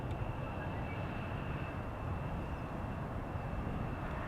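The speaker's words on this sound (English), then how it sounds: "Once again hearing something heavy spool up from the center runway right now." Heavy Boeing Dreamliner jet spooling up on the center runway at Schiphol Airport, a distant steady rumble with a thin high whine held throughout, fairly faint and free of speech.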